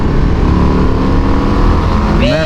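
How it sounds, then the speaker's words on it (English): A Harley-Davidson Low Rider ST cruiser motorcycle rumbles loudly past with a deep, continuous engine drone, its pitch rising sharply as it revs away at the end. "there she goes. Motorcycle!"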